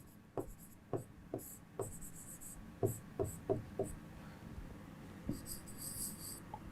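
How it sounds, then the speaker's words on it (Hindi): Someone writes an answer by hand with a pen on paper, giving a series of soft, separate scratching strokes in an uneven rhythm. The sound is quiet and close, with no talking. "जैसे मैं उत्तर लिख रहा हूं"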